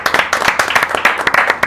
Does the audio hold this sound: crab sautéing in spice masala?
no